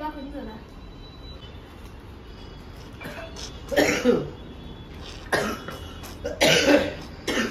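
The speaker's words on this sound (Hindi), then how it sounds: "देखो खांसी भी हो गई यार" Several harsh coughs come in short bursts, close to the listener, separated by quieter stretches.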